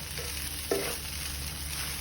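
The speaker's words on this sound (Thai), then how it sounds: "ผัดใน กระทะหม้อซุกี้นะครับ" Egg fried rice with minced pork stir-fried in a suki hotpot pan, giving a faint, steady sizzle with one brief scrape or clatter of the spatula partway through, no voices.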